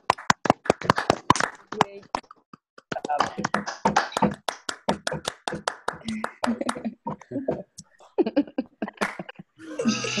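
Scattered clapping and tapping from online meeting participants, uneven and not in sync, coming and going in short bursts between stretches of talk and some laughter.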